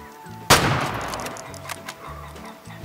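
A single sharp gunshot rings out while hunting pheasant in the video game Way of the Hunter, cracking loudly and decaying over a second, followed by a few fainter clicks and low game ambience.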